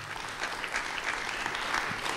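A live concert audience applauds a musician with steady, dense clapping that fills the whole moment without any talk over it.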